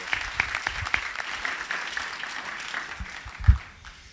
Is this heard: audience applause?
yes